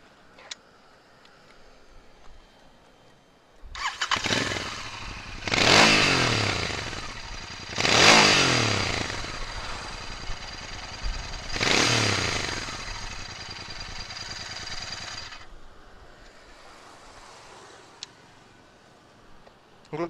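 Royal Enfield Interceptor 650 motorcycle with a parallel twin engine starts, idles with a ticking thump, and is revved three times in sharp rising-falling bursts before cutting off, recorded close by.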